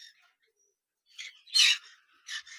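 Conure parrots in breeding boxes give a few short, high chirps. A faint call comes first, then a cluster of sharper chirps after a quiet gap, with silence between the calls.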